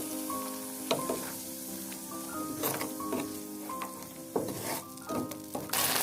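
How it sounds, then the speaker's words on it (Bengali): Bengali spice paste of ground onion, mustard, poppy seed, cumin and ginger frying in a pan with a little water for hilsa fish tail, sizzling steadily with scraping stirs and a few sharp clinks of a utensil against the pan. "সামান্য পরিমাণে পানি দিয়ে মশলাটাকে কষিয়ে নেব।"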